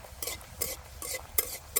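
Spinach luchi frying in hot oil in a village kitchen, with bursts of sizzling and stirring strokes recurring about every half second, close and moderately loud, no talk.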